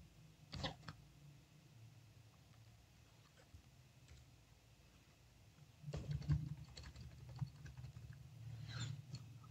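Quiet computer keyboard typing while editing text, soft scattered keystrokes with a busier flurry of taps toward the end, close and low in level with no talk.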